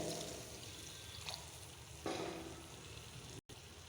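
Half a cup of water splashes and pours into a hot pan, with a brief surge of sizzling and bubbling over steady frying noise.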